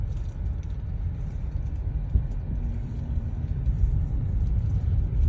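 A 2023 BYD Yuan Plus Flagship electric car accelerates with a low, rising road rumble and faint motor whir heard from inside the cabin, steadily growing louder with no talking.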